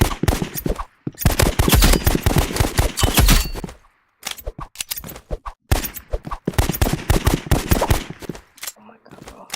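Handgun shots in the video game Rivals crack out in rapid, dense bursts separated by brief pauses, loud and close throughout, with a voice talking under the firing.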